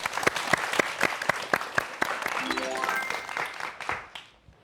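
An audience applauds a university physics lecturer being welcomed to give a lecture, with distinct claps that thin out and fade toward the end while a voice speaks briefly over them.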